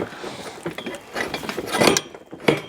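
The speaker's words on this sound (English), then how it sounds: "I'm gonna tighten up those bolts on these legs just a little bit." Bolts are tightened on the metal legs of a gravity feeder, giving close irregular ratcheting clicks and metallic clanks in uneven bursts.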